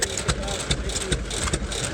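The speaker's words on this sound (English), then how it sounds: "These engines are prized as much for their distinctive chugging, wheezing, and popping as they are for the bygone era they represent." A 1918 Fairbanks Morse 6 hp Z stationary engine runs nearby, a steady chugging with regular pops about every 0.4 seconds over a continuous wheezing, rumbling drone.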